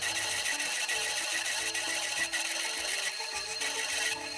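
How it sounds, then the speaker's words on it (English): An oscillating spindle drum sander smooths knife handle scales with a steady, fairly quiet whirring hiss that runs unbroken, its scraping tone shifting slightly as the workpiece is pressed against the spindle. "this oscillating spindle sander slash drum sander, it puts in work, so it'll take all those little lines completely out of this"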